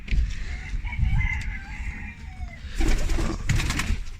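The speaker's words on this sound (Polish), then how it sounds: "kurki sobie chodzą" Chickens and pigeons in a coop give soft clucks and coos, with a crow-like call and shuffling movement nearby, moderately close.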